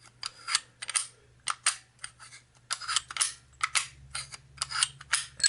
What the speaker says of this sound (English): with pressure exerted, the gun opens, and you can see the barrel tilts to unlock